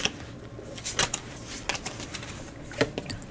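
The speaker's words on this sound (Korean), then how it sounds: "추가 카드를 좀 뽑아보도록 할게요." Extra tarot cards drawn from the deck, a few quick papery slides and light taps spread over a few seconds, close and soft against a quiet background.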